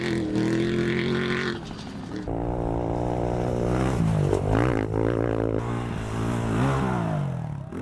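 Number 13 off-road race car engine roaring loudly and continuously, pitch shifting as it accelerates and revs through gears at an off-road desert racing event, with no talk.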